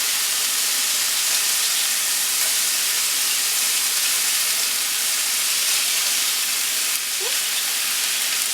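Pork fried rice sizzling in a Ninja non-stick skillet, a loud, steady, close hiss that holds evenly throughout with no talking.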